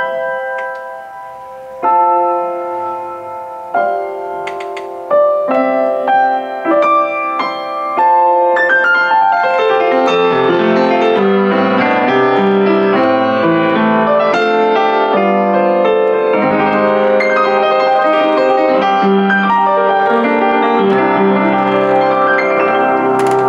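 Offenbach DU-4 upright acoustic piano played with its lid propped open, starting with sparse single notes and building into a full, bright, sustained passage of chords and runs that rings loudly and alone.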